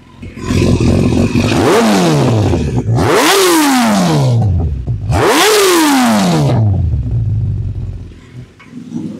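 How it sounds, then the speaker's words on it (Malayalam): A used superbike at a Kochi showroom revs three times in quick succession, each burst climbing sharply and then dropping back. The exhaust note is loud and close, settling into a lower idle at the end. "ഇതാണ് നമ്മളുടെ വണ്ടിയുടെ എക്സോസ്റ്റിനോട്ട്"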